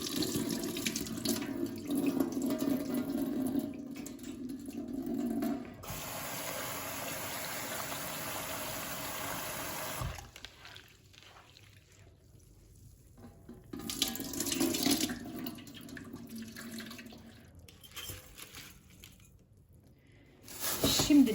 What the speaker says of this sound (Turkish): Sadece bu kadar fazla yıkamayacağım. Çünkü lezzeti gidebilir.